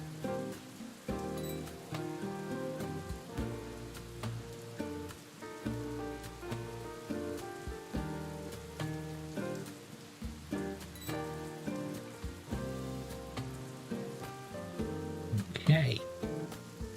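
Soft rain patters in the video game Factory Town 2, faint beneath a looping melodic game soundtrack with a brief louder chime near the end.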